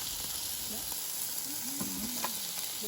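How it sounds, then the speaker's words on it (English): Pork chops sizzle on a camp grill beside a second grill of teriyaki chicken, a loud, constant frying hiss with faint voices drifting in the background. "Pork chops with chimichurri sauce on one grill,"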